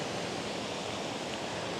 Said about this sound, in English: Got this pretty cool waterfall.